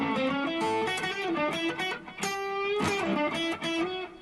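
Electric guitar plays a blues arpeggio mixed with blues scale notes over I IV V chords, with clear, sustained, slightly distorted single notes in a flowing phrase.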